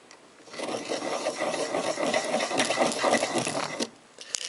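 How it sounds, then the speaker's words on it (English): A deburring blade scraping round the inside rim of a cut copper pipe gives a steady raspy shaving, close and moderately loud for about three seconds, then a pause and a small click. "Insert the blade with the other hand into the pipe and rotate it around the inner wall clockwise or counterclockwise to shave off the burr"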